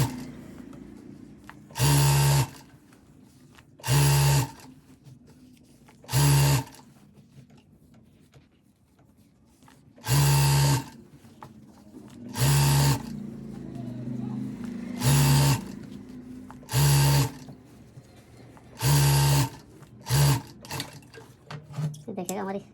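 Sewing machine stitching stretch fabric for pants, running in about eight short bursts of rapid mechanical whirring separated by pauses, with a voice talking quietly between runs.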